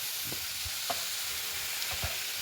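Bitter gourd fries in hot oil with a soft, even sizzle, a few light stirring taps breaking through, quiet and close with no voices.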